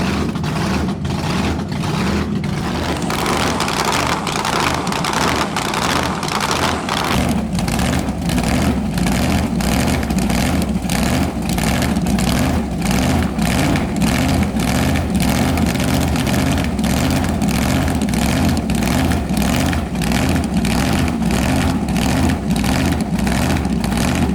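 A 1970 Boss 429 Mustang with a large supercharger blower, its engine running loud and close, with a lumpy, pulsing idle that swells into a heavier, rougher throb partway through.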